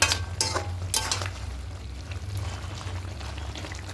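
Large chicken pieces being stir-fried with masala in a pan, close scraping stirs and soft sizzling with a low steady hum underneath, a few sharper strokes early on.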